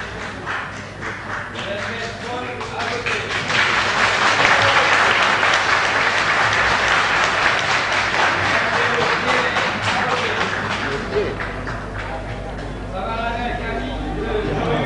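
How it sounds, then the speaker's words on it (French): A crowd at a regional election result on Réunion in 1992 breaks into sustained applause and an ovation, loud dense clapping that swells and holds for about fifteen seconds while a voice speaks over it. "Véritable ovation de la foule présente ici."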